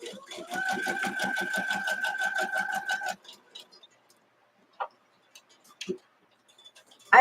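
A sewing machine back-stitches a quilt block with a fast, even run of mechanical ticks and a humming tone for about three seconds, then stops, leaving scattered faint handling clicks.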